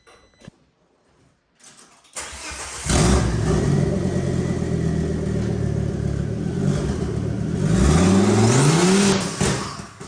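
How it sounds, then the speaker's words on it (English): A T5 mail truck project engine turns over, catches and runs loud and rough with uneven revving and sputtering, rising twice toward the end as if nearly dying under load, alone with no talk. "the car started to sputter and almost died as soon as I applied some power to the wheels"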